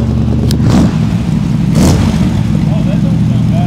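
A 1960 Chevrolet Impala engine revs in deep bursts, its rumbling exhaust loud and close, rising and settling over a few seconds.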